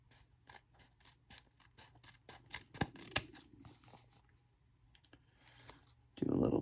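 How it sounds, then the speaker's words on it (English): Scissors trimming paper craft tags, giving a string of short, crisp snips and clicks at close range, with a louder rustle of paper handling at the end. "do a little trimming to even things up, clean it up a bit"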